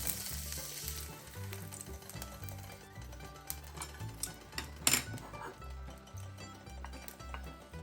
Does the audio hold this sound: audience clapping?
no